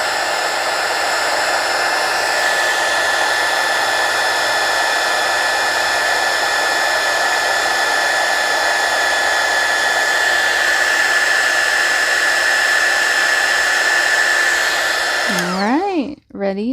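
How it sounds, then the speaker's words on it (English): A heat gun blows steadily and loudly for about fifteen seconds while melting embossing powder on junk journal lace cards, a continuous broadband whoosh with a faint whine, then clicks off near the end. "I don't feel any of the heat from the heat gun"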